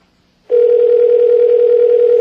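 A telephone line rings on an outgoing call, one loud steady ring tone that starts abruptly after a brief silence and holds to the end, no voices.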